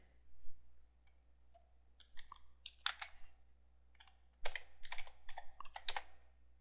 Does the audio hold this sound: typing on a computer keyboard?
yes